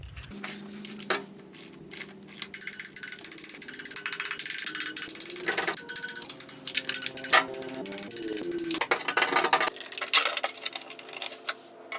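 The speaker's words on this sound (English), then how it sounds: "I'm going to set my torque wrench." A torque wrench being adjusted while working on a 2003-era BMW Z4 E85 with the M54 engine, giving a rapid, close run of crisp ratchet clicks that comes and goes in short bursts, with no voices.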